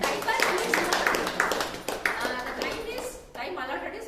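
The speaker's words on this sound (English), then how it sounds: "let us welcome him with warm smile and a big round of applause" A round of clapping welcoming a speaker at a Toastmasters club meeting, moderately close and somewhat uneven, with voices murmuring over it and a brief dip near the end before the clapping resumes.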